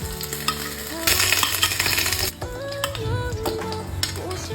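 A beef patty fries in a pan over low heat, giving a loud, close sizzle with metallic clinks and scrapes of a utensil pressing and moving it, and a faint tonal hum in the background.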